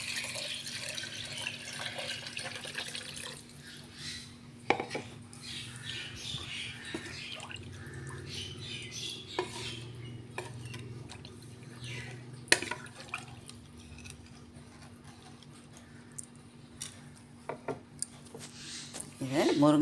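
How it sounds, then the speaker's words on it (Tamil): Water from boiling drumstick stalks poured into rasam in a pan, a soft liquid splash and trickle with occasional metallic clinks of the pan, faint and close, with a few sharp knocks along the way. "இப்போ முருங்கைக்கீரை குச்சியோட தண்ணி இதில் ஆட் பண்ண வேண்டியதான்."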